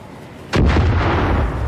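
An airplane in the video game Far Cry 5 bursts in with a sudden loud, close roar that holds as a heavy sustained rumble.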